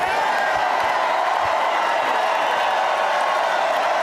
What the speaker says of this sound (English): It erupted in thunderous applause.